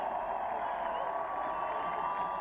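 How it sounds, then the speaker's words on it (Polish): A concert audience at a rock festival show cheers and applauds as a steady, dense wash of crowd noise with no clear breaks, moderately loud throughout. "Wielkie brawa, zasłużyłem!"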